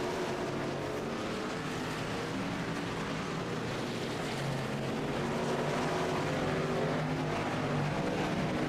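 Race trucks roaring around the Watkins Glen road course in a racing video game, a dense continuous engine drone with shifting tones and no break, loud and steady throughout.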